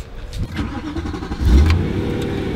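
BMW M3 E92 engine running, with a low, steady rumble that swells into a louder, heavier rev about halfway through and then holds at a raised level.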